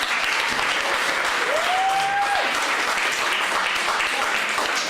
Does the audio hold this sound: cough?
no